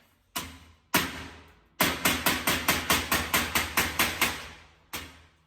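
Close, loud metallic hammer blows on sheet metal against a table edge ring out: two separate strikes, then a rapid steady run of about a dozen, and one final blow.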